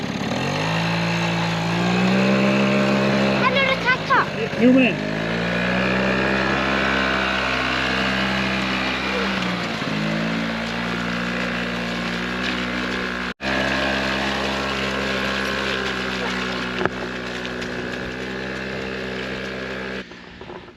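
A Quadzilla Buzz 50cc kids quad bike engine runs steadily at close range for a sustained stretch, with a few brief rises in revs and a short drop partway, while a voice speaks briefly over it.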